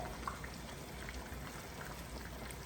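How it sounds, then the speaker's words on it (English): Water poured into a hot pot of simmering Jamaican-style hot pot, a steady low splashing trickle with faint bubbling, quiet and continuous for a few seconds with no voices. "I'll still add a little water from this side to here"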